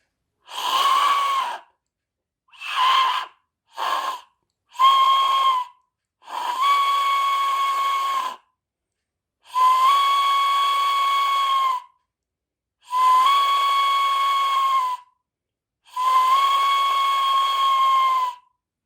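A breathy, shrill whistle blown in repeated blasts, the first few short and choppy, the rest long held wails with quiet gaps between.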